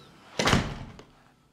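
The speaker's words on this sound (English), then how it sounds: "Front door open." A front door opens in a Lennar Kensington model condo in Summerlin, giving a single close thump-like swing followed by a short, softer knock as it settles, with no talking.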